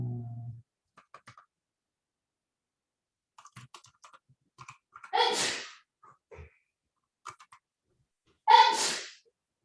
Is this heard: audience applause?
no